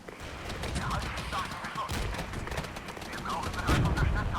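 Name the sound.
M109 artillery firing in the video game Regiments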